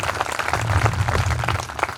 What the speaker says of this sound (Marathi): माझ्या राजा करता एकदा जोरदार टाळ्या वाजल्या पाहिजे